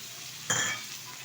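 Ground cumin, ginger and chili paste hits hot oil in a pan for a rohu fish and taro curry, making one brief, fairly faint sizzle burst over quiet background.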